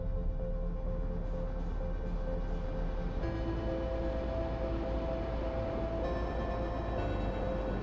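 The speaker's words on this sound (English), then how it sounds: "that's the sound of the sun about to explode" In the video game Outer Wilds, the sun about to explode gives a steady, loud droning roar with sustained tonal hums layered over dense rumbling noise, shifting in pitch partway through.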